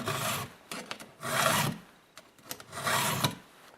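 Three slow, rasping file strokes across metal teeth, each a broad gritty scrape with short pauses and small clicks between, close up with no talk.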